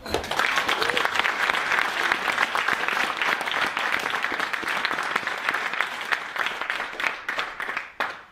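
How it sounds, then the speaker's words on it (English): Indoor audience at a crypto meetup applauds steadily for several seconds, dense clapping from a room full of people that tapers slightly toward the end. "And a big round of applause for Stephen."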